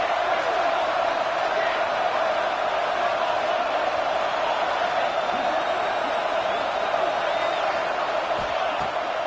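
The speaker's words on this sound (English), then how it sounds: "And if you didn't know this was a big play, the crowd is telling you." A stadium crowd in an NCAA college football video game roars on a big third down, a dense, loud, steady wall of cheering that carries through the whole stretch.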